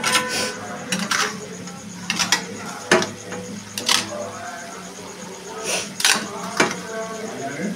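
Boiled chowmein noodles stirred and tossed in a pan with a utensil, giving repeated scraping and clinking strikes at an uneven rhythm, close and moderately loud, with a voice talking over the cooking.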